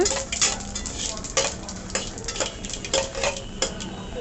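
Chopped citron stirred into mustard seeds and dried chillies tempered in a pan for pickle, a run of light rhythmic scrapes and clinks of a spoon against metal over a faint sizzle, close by with no speech.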